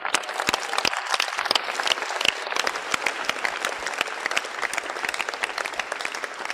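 An audience claps steadily, a dense patter of many hands sustained throughout at moderate loudness, with no talking over it.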